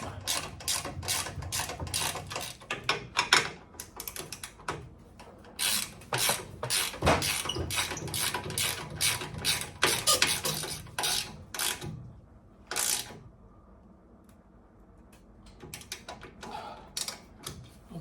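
A ratchet wrench tightening a bolt on a 1972 VW Super Beetle: fast, close clicking runs in rapid bursts with brief pauses, then slows to a few scattered clicks near the end.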